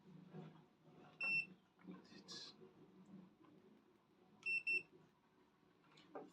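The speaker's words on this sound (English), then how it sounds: "It's beeping my test meter." A multimeter used to test a Bluetooth speaker under repair gives two short, sharp electronic beeps a few seconds apart, heard under quiet, intermittent talk nearby.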